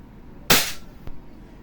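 WE Glock 18C Gen 4 airsoft pistol fires a single sharp, close crack using .20 BBs during a chronograph speed test, followed by a faint click and quiet room tone.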